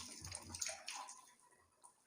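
Water poured over the head and body during a ritual bath, sloshing and splashing in a few close, uneven bursts that trail off into quiet dripping, with no talk.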